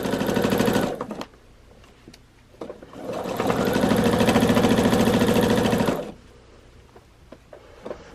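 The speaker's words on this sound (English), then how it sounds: "I'm just going to stitch right along this blue line" A sewing machine stitches a quilt border with striped fabric along a marked line, loud rapid mechanical chatter in two bursts separated by short pauses and quieter handling noise.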